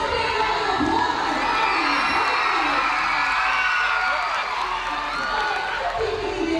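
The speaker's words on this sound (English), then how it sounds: "Give yourself a big round of applause." A crowd of children at a fan festival reading competition cheers, shouts and whoops loudly, with scattered clapping mixed into the continuous excited roar.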